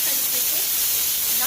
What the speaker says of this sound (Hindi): मेरी दाल जो है वो भी सीटी पे सीटी मारी जा रही है